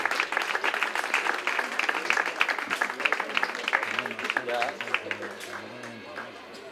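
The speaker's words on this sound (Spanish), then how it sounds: "Ahí está, fuerte el aplauso" Spectators clapping as a trophy is handed over at a bowling award ceremony, dense applause throughout while a voice speaks over it, the clapping thinning toward the end.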